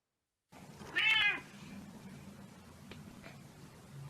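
A single short cat meow rings out near the start, fairly clear, followed by quiet background hiss and faint small sounds.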